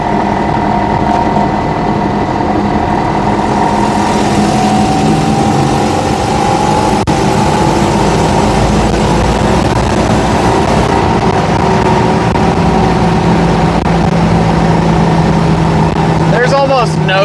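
Car with a newly built stainless-steel exhaust running steadily, a loud, even engine drone held throughout with faint background noise and no clear speech.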